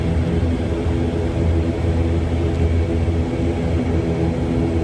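A Citilink ATR 72-600 turboprop airliner turns at the end of the runway at Juanda Airport, Surabaya, before takeoff, making a loud, steady, low engine and propeller rumble with a constant drone throughout and no speech.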